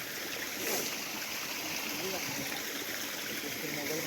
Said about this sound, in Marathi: आवाज येतोय पाण्याचा खाली